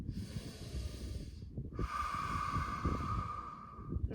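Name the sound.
deep inhalation during yoga breathing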